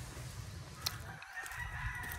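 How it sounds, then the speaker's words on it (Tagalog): Chickens cluck and a rooster crows faintly in the distance outdoors along a village walking path, soft and low behind a quiet ambient background. "Daming manok."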